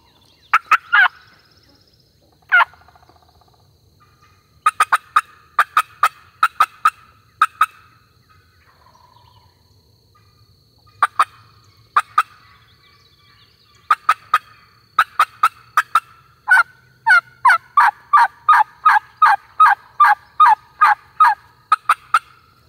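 Wild turkey gobbler in the south Alabama woods on opening day gobbles repeatedly, bursts coming in clusters, some faint and distant, ending in a fast run of close, loud gobbles against a quiet background.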